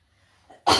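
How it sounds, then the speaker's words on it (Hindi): A single sharp cough bursts out after near silence and a faint throat sound, loud and close, during a maths lesson. "sorry for खांसना"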